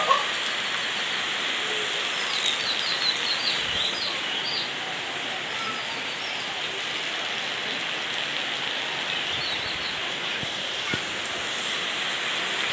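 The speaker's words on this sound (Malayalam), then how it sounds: "മഴ ഇത്തിരി തുറന്നിട്ടുണ്ട്." Steady rain falling outdoors on a Sunday, a soft continuous hiss throughout with occasional bird chirps over it and faint scattered taps.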